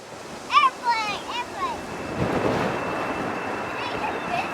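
Wind gusts across open water at St Johns Reserve, a broad rushing roar that builds midway and holds, following a few high chirping calls at the start.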